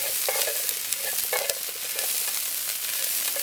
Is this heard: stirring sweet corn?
yes